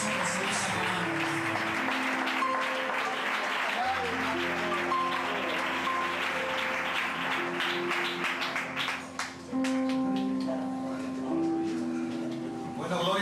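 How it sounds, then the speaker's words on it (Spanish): Congregation clapping during a Spanish-language church service, rhythmic claps mixed with sustained music and vocal tones that carry through most of the stretch, with a short dip near the middle. "Un aplauso para el Señor, por favor."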